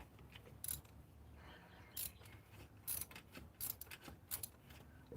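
A hand ratchet clicks in short bursts while working a stubborn rear spark plug loose on a hot-rod engine, with sharp metallic ticks repeating about once a second, close and fairly quiet, without speech.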